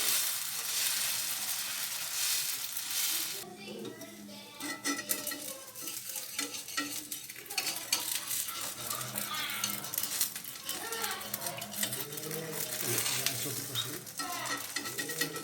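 Oil sizzles steadily in a pan while dhoka batter fries, with stirring scrapes and clinks running throughout; the frying sound stays loud and continuous, with some speech heard over it.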